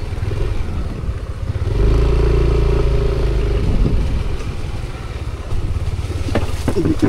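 A motorcycle engine rumbles nearby, rising briefly in a steady rev then easing back toward idle, with faint clatter and a little background voice toward the end.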